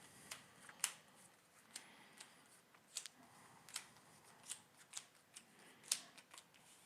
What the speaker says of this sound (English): Alright, 1 more shuffle Rooney here, and we'll be good to go